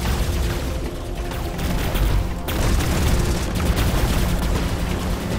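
Dense bursts of gunfire and booms from the video game War Robots rattle on continuously, loud and busy, with no clear talking.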